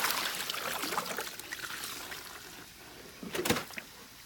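Water splashes and trickles steadily while washing dirt out of a container on a farm with chickens and pigs, with a brief louder splash near the end.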